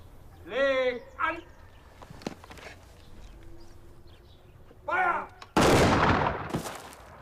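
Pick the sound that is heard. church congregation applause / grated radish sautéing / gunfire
gunfire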